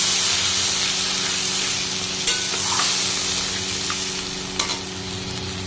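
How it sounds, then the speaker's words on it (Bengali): A spice paste of ginger, cumin, chili, coriander and tomato fries in a pan with added water, giving a loud, continuous sizzle broken by a few brief stirring clicks. No speech is heard. "জল দিয়ে দিলাম, এই মশলাটাকে ভালো করে কষাবো।"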